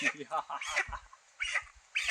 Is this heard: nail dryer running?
no